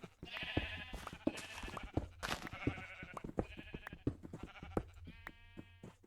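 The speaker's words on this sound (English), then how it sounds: "Look out, Mr. Sheep" Several sheep bleat repeatedly in a farming video game, overlapping wavering calls from close by over a low background hum, some loud and some softer.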